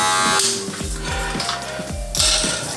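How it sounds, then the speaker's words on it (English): Electric hair clippers buzz steadily up close while cutting hair during a taper blend, a close, continuous whirring hum that shifts in pitch as the blade moves through the hair. "take your little brush, clean off that clipper"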